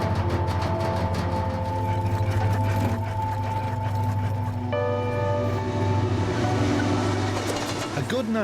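A 1.7-mile-long coal train rumbles steadily through a small outback town, a heavy continuous low drone of rolling wagons with a sustained horn-like tone layered over it, loud and close throughout.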